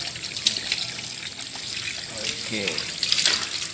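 Water sprays and splashes while rinsing a Toyota Avanza car during a detailing wash, a steady hissing rush with dripping. Someone speaks briefly over it.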